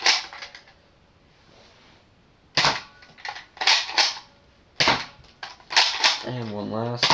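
A Buzz Bee Jaguar toy blaster firing foam darts, a series of sharp close snapping shots in irregular bursts, some in quick pairs, with someone speaking briefly between them.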